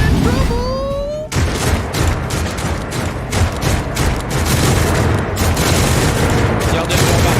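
Turret gunfire in the video game Warhammer 40,000: Rogue Trader, a dense, loud fusillade of rapid mechanical shots and booms that runs continuously for several seconds after a brief rising electronic tone, with a voice speaking faintly underneath.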